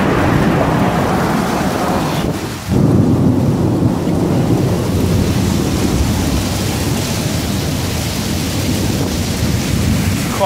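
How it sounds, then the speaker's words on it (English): A hailstorm with thunder, heard from inside a cave, makes a loud, dense and continuous roar of hail and rain. Deep thunder rumbles beneath it throughout, with no voices. "Already I'm getting hit by hail, it's just coming busting through there."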